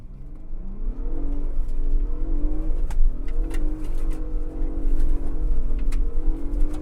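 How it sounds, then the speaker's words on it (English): A 2022 Ford Bronco Raptor drifting off-road with traction control off roars loudly and steadily, its engine note rising and falling as the revs swell and dip, with faint crunches from the dirt and no voices. "Let's turn traction control off and do some drifts."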